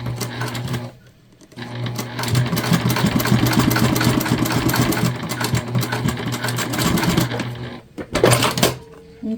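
Sewing machine top stitching clear jelly vinyl bag, a loud close mechanical hum with rapid needle chatter running steadily, pausing briefly near the start and again near the end before short final bursts.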